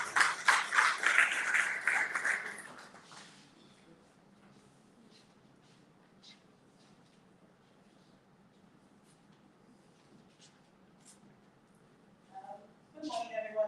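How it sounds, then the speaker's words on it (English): A conference audience claps in a short round of applause. It is fairly loud for the first three seconds and then fades into quiet room tone with a few scattered taps. A voice starts up right at the end. "Another round of applause for the place."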